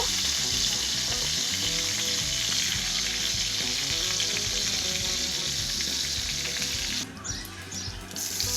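Chopped onion with black pepper, cloves, cardamom and cinnamon frying in a wok, a loud, steady sizzle that fills the whole clip, easing slightly near the end, with no talk.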